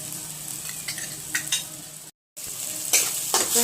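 Paneer bhurji masala frying over a low flame while a spoon stirs and scrapes through it, giving a steady close sizzle with scraping strokes and a brief silent gap partway through.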